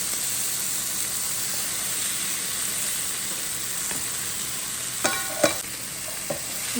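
Eggs fry in a pan for shrimp fried rice with a steady, moderate sizzle and hiss, then a few sharp utensil clinks near the end, with no talking.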